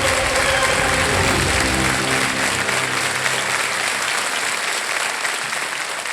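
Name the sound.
studio audience applause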